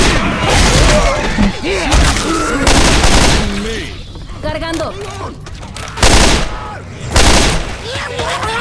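Bursts of gunfire in the video game Left 4 Dead 2, sharp loud shots and rapid volleys with heavy booms in clusters, separated by quieter stretches where in-game character voices talk.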